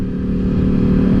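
A liter bike motorcycle engine with modified ECU hums steadily with a throttle blip, a brief close loud rev with a buzzing tone.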